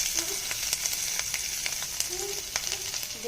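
Chopped garlic hitting hot oil already tempered with nigella seeds and dried chilli, frying as fish roe bhaja is started: a bright, continuous sizzle with scattered crackles and stirring clinks, close and steady.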